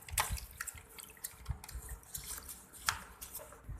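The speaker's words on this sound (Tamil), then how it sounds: "இதில் வந்து தண்ணி கொஞ்சோண்டு ஒரு ஜக் வந்து ஊற்றிக்கலாம்" Water poured from a jug over the filter of an LG front-loading washing machine, giving quiet irregular splashes and drips, faint and intermittent.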